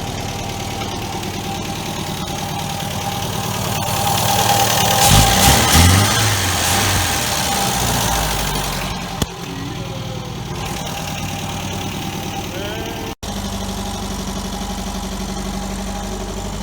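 A 1973 MGB GT sits with its engine idling, a steady mid-range rumble that swells briefly louder near the middle before settling back into an even idle.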